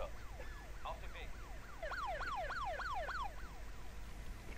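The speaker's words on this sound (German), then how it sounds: "Bei so einer Sirene würde ich auch Platz machen," Wailing emergency vehicle siren from the Emergency 4 video game with a Polish rescue mod, rising and falling in fast repeated sweeps over a steady low rumble, at moderate volume.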